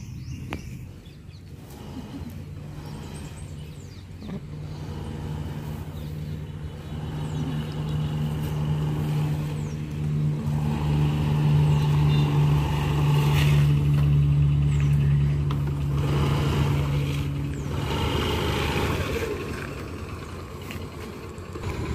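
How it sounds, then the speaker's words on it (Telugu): A new scooter on its first ride, the engine humming steadily and rising in pitch as it accelerates, then easing off, heard up close with faint birds in the background. "మరి నేను బండి ఎలా తోలుతున్నాను మీరైతే చూడండి"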